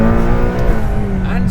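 Hybrid hypercar engine, likely a McLaren Speedtail, roars loudly close by with a deep, steady growl and rising harmonic tone, while voices talk underneath.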